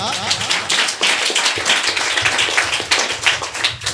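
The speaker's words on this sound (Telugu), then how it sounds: "నచ్చితే ఇంకొకసారి చప్పట్లు కొడతారా?" Church congregation at a Sunday sermon clapping, a dense, steady patter of many hands at close range for several seconds without speech.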